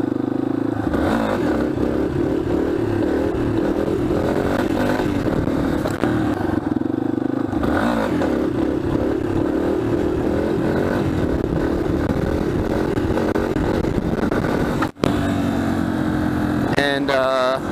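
A motorcycle doing wheelies, its engine roaring and revving loudly and continuously throughout, with some rattling and scraping mixed in and brief talk near the end.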